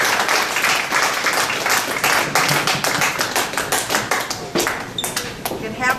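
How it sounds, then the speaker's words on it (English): An audience applauds two authors at a book event, a sustained round of many hands clapping, close and fairly loud, with some voices mixed in. "please help me give another round of applause for Stephanie and Lynn"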